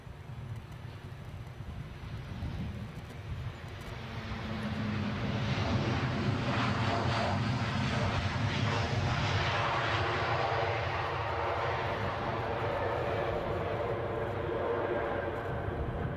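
A Ryanair airliner rolls out along the runway at Edinburgh, a broad engine roar rising after a few seconds and staying strong, with wind buffeting the microphone.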